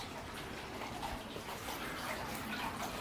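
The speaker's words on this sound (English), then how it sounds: "Ah, just a fountain." Steady splashing water runs continuously, a soft, even rush like a fountain pouring, fairly quiet and uninterrupted throughout.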